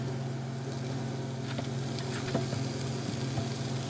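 Vegetable noodles with soy sauce stir-frying in a pan, giving a steady, fairly faint sizzle with a few light scraping stir strokes partway through, no voices.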